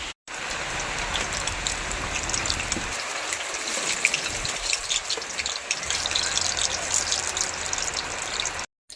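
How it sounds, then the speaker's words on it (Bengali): Rain falls outdoors in a steady, dense hiss of drops on surfaces, continuous and moderately loud, briefly cut off at the very start and end. "তো বৃষ্টি হচ্ছে বন্ধুরা"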